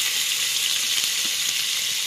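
Chopped onion and garlic frying in a pan for garlic noodles give off a loud, dense, continuous sizzle, steady and close with no pauses.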